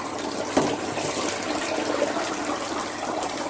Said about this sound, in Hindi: ऑयल के अंदर अंडे ऐड कर दिए मैं